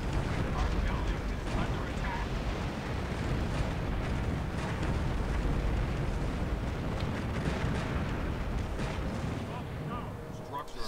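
A power plant is blown up in the strategy video game Earth 2150: The Moon Project, with a continuous rumble of explosions and artillery-like bursts heard at moderate level for about eleven seconds.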